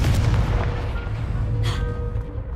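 A Confringo spell blast in a Hogwarts video game, a deep, loud booming explosion with rumbling low end and a brief crackle, heard alone.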